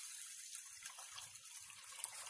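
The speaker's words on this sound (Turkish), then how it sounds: "Şimdi su da koyacağız aynı şekilde." Water pours steadily into a glass jar while making pickled hot peppers, a continuous close splashing and trickling with low gurgles, fairly quiet and with no talking.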